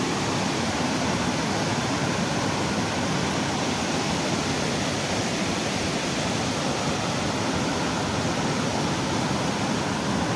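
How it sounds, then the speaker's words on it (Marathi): Amboli Ghat waterfall pours in a constant, dense roar that fills the whole clip at an even level, with no voices. "मला आंबोलीचा धबधबा मेन बघायचा आहे। तर या धबधबा बघून घ्या।"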